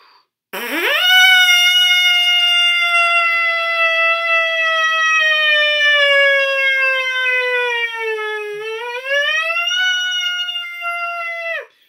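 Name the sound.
mouthpiece buzzing imitating a siren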